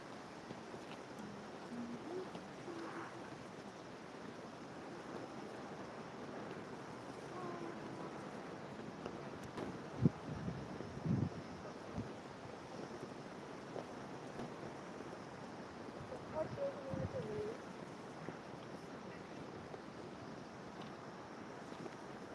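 Steady roaring wind buffets the microphone throughout, with a few louder gusts and thumps midway, no voices present.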